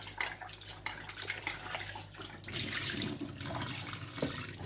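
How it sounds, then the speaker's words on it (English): Cold water runs from a tap while ilisha fish are rinsed in a bowl, a soft steady splash with a few sharp clinks and knocks early on, then a fuller gushing flow. "Water, cold water"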